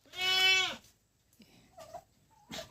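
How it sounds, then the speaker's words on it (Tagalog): A pet goat on a farm gives one long, loud wavering bleat close by, followed by a few shorter, fainter calls and small sounds. "Magsusuga na naman si Commander ng alaga niyang kambing."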